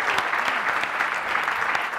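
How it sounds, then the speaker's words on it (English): Audience applause at a talk event, a short burst of steady clapping from a moderate crowd with a few individual claps standing out. "So here is a big round of applause for Selvi."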